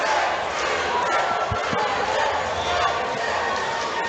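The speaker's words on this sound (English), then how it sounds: "We hear the crowd." Crowd at a catchweight MMA fight night yelling and cheering loudly and continuously, a dense roar with some sharp thuds mixed in.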